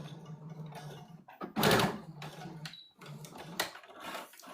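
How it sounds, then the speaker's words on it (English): A sewing machine stitches fabric straight over pins while sewing a Burda 6442 garment, with a steady low motor hum broken by short bursts of louder stitching, nearby and without talk. "So I just sew right over these pins."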